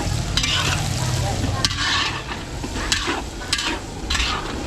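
Garlic and onion sautéing in butter in a pan, a constant loud sizzle with stirring scrapes and occasional sharper clinks of the utensil against the pan, close up.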